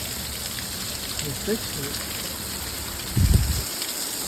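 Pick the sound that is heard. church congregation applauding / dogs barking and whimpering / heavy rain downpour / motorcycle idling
heavy rain downpour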